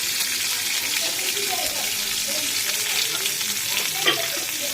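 Chickpeas fry in a pan with a steady, close hissing sizzle that runs throughout, broken by a few faint scrapes and small pops.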